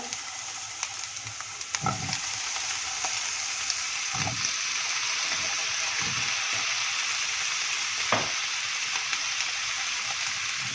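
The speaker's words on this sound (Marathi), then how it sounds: "आता या पॅनमध्ये तेल गरम झाले, यामध्ये वांग्याच्या फोडी घालूया" Brinjal pieces fry in hot oil in a pan with spices, giving a steady, loud sizzle with occasional crackling pops, and no voices are heard.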